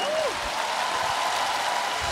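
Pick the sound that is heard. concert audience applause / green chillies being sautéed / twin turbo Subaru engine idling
concert audience applause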